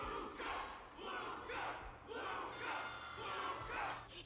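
A large crowd in the game Honkai Star Rail roars and chants in rhythmic waves of cheering, sustained and fairly distant, with no clear speech over it.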